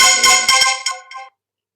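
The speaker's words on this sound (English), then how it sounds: "my phone isn't turned on silent" A mobile phone rings with a loud, bright electronic melody of several quick rising and falling notes, playing alone and stopping abruptly after about a second.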